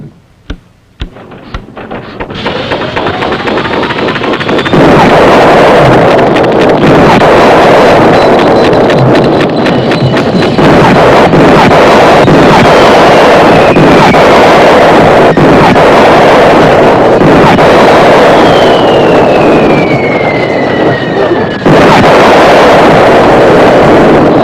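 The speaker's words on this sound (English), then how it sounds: "Rev her up there, Buck." An engine revved hard in a 1972 mountain setting, a loud sustained roar with rising and falling pitch sweeps running for the whole stretch, harsh and close with a rough edge.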